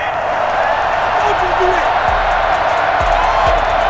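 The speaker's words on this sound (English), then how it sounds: "Well, the crowd doesn't like that." A stadium crowd in the video game Madden NFL 21, Buccaneers vs Packers, reacts to a penalty flag with a steady, loud wash of disapproving noise and a few low thuds underneath.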